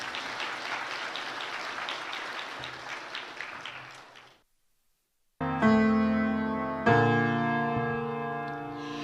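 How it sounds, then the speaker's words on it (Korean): A church congregation at a Sunday service gives brief applause to celebrate a new member's confirmation; scattered hand claps fade out, then after a pause a sustained organ or keyboard chord swells in. "박수로 한번 축하하겠습니다."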